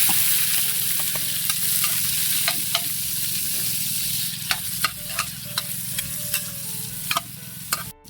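Garlic, ginger, onion and tomato sizzle and fry in oil, with steady crackling and occasional sharp clinks of a utensil stirring the pan, close and continuous with no talking.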